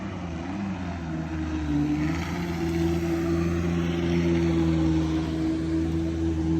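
A Torpedo electric motor on a NuCanoe kayak runs on its low setting out on the water, giving a steady, continuous whine and hum with a light wash of background noise and no speech.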